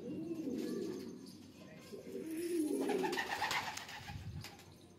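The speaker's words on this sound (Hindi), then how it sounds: "उड़ने वाला कबूतर ही है" Flying-breed pigeons coo in a close, repeated series of low, throaty calls, with a few faint chirps and a steady rustle in the background.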